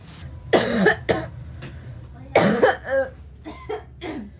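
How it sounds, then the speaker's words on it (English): Several harsh, bursty coughs in clusters, close to the listener, with short pauses and a few softer throaty sounds between them, in a dusty, messy room. "I keep coughing right now"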